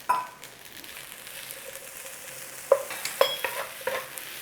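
Yang Chow fried rice with peas stir-fried in a hot pan: a steady, close sizzle with scraping, broken near the end by a few sharp metallic clinks of a utensil striking the pan, with no voices.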